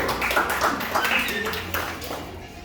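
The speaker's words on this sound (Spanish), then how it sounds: "Vamos a darle un aplauso." A room full of people at a uniform handover ceremony for a group claps briefly under continuing talk, the scattered hand claps fairly close and moderately loud before fading.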